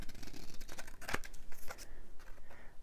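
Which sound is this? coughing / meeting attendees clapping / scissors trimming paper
scissors trimming paper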